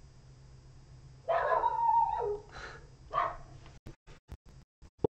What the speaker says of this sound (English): puppy in the background.